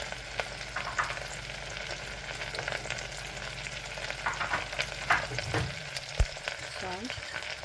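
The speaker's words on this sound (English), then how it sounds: "Adding ginger garlic paste. Adding little bit of ghee." Ginger garlic paste frying in ghee in a pan, with a steady close sizzle and occasional stirring scrapes throughout. No one talks.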